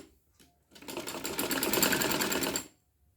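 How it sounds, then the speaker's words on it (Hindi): A sewing machine stitches dori piping onto a kameez, with a couple of faint taps before one steady, close motor run of about two seconds that then stops. "तो पहले मैं यहाँ से सिलाई लेती हूँ, यहाँ से मैंने सिलाई ली।"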